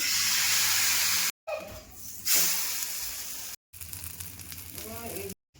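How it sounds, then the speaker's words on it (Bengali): Gola roti batter sizzling and frying in hot oil, a loud steady crackling hiss close by that cuts off briefly twice, with faint speech underneath. "এই যে তেল গরম হয়ে গেছে, এখন ব্যাটারটা দিয়ে দেবো।"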